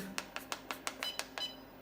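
Short electronic beeps from an UltraPower UP2800 14S battery charger under repair repeat about eight times in a steady quick rhythm, bright and fairly close, with no voices.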